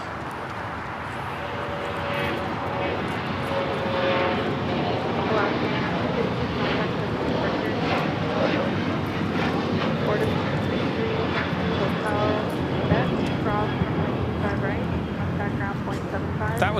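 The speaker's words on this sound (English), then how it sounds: "That was Alaska Airlines 1315 taking off to Portland on the 737-800 in the Disney Toontown livery" A Boeing 737-800 jet roars steadily as it takes off from a large international airport, a loud, sustained engine rush filling the whole span, with people talking over it.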